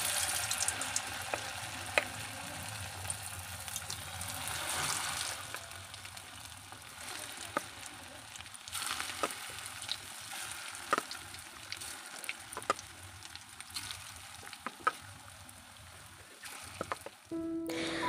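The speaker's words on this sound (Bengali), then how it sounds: "প্রথমবার যে পকোড়াগুলো দিয়েছিলাম এগুলো আমার ভাজা হয়ে গেছে" Pakoras frying in a pan of hot oil give off a faint, steady sizzle with occasional small pops and clicks, heard alone at close range.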